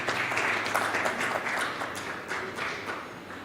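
Audience applause for a session moderator at a digital and technology week event, moderately faint clapping that swells and gradually tapers off.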